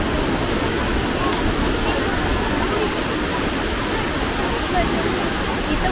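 Heavy rushing water at Tinago Falls, a dense, constant broadband roar at steady level across the whole stretch, with voices faintly present beneath it.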